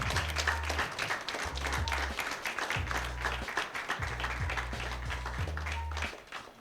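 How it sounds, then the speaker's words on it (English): A standing ovation at an international education workshop greets guests Aaron and Peter: continuous, full-room applause sustained for several seconds over a low, stepping musical backing that fades at the end. "a standing ovation and a round of applause for Aaron and Peter"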